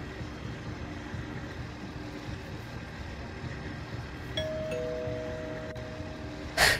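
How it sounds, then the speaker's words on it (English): A doorbell rings in the horror video game Unseen Carnage, set in a suburban neighborhood. A clear two-tone chime sounds partway through over a low, steady ambient rumble, then a short bright burst follows near the end. "There's a doorbell."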